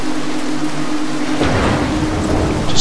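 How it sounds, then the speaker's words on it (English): Storm ambience from the stealth game Mark of the Ninja: steady loud rain hiss throughout, with a deep rumbling thunder roll swelling in around the midpoint and continuing to the end, no speech. "Probably gonna be another lightning strike as I move to go down here, isn't there?"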